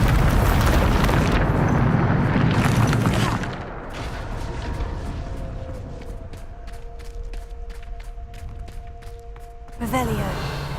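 A Bombarda spell in Hogwarts Legacy bursts in a loud, rumbling blast that fades into debris and scattered crackles, followed by a second sharp impact near the end; a voice shouts the incantation.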